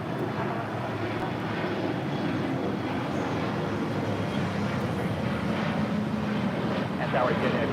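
An airliner taking off from runway 25 right at LAX gives a continuous broad engine roar that holds steady throughout, with buffeting wind noise on the microphone.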